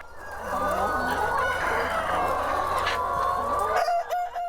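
Chickens cluck and squawk steadily at a welfare-certified free-range farm of 6,500 birds with perches and an earth, rice-husk and sawdust floor, many birds overlapping close by with a rooster-like call near the end.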